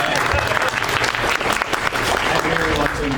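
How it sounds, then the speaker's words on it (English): Dense applause from a crowded PAX panel audience fills the room, steady and loud throughout with no let-up. "Round of applause, everyone."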